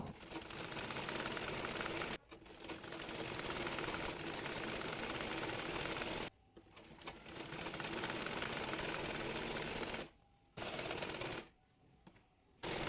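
A sewing machine running in long bursts while elastic is stretched and stitched along a salwar, its fast steady whir broken by short pauses.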